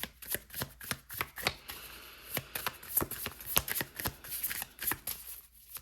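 Tarot cards are shuffled and drawn from the deck in a steady run of crisp, riffling flutters and sharp slaps, close and clear with no talking.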